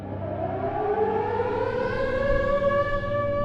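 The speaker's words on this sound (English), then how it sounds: "And then all of a sudden we hear the sirens." Tornado warning sirens wail continuously, a steady rising-and-holding tone with strong harmonics that fills the whole stretch, loud and sustained without a break or any voices.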